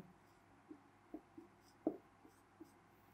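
Chalk or marker strokes from a teacher writing a heading on a board, a few faint, separate taps and scratches spread across a quiet room, with no talking.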